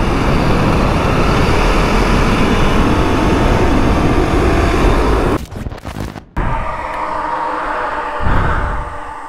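A Suzuki GSX-S1000 and a KTM Superduke ridden at full throttle on winding roads, a loud continuous engine roar buried in heavy wind rush, dropping away briefly near the end before picking up again.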